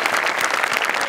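Steady, dense applause from a studio audience for Aamir Hadkar on the stage of a Marathi comedy show, Maharashtrachi HasyaJatra, close and full throughout the short burst with no talk over it.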